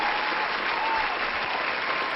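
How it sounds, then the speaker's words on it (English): Dense, steady applause from a crowd fills the whole stretch at an even, loud level, with no pauses or talk over it. "Ladies and gentlemen, clap it up."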